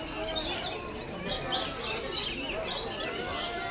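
A pet bird perched in a woman's hair chirps indoors, several short, faint, high tweets scattered across a few seconds over quiet background noise.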